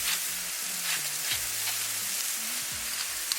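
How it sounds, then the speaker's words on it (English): Mushrooms sauté in a hot skillet with a steady sizzle and occasional scrapes and clinks of a utensil stirring them, close and continuous throughout. "It's about 5 minutes cooking mushroom. It's nicely sauteed."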